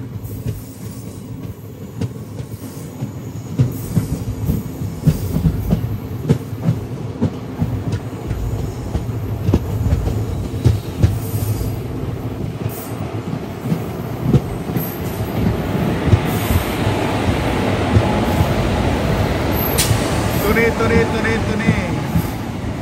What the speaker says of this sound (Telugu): సింహాద్రి ఎక్స్ప్రెస్ అదిగోండి